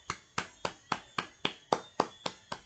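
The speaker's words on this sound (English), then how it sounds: "I just want to extend a round of applause to Manchester United." A single person's hands clapping about ten times in a steady, even rhythm, close and crisp, with no talk.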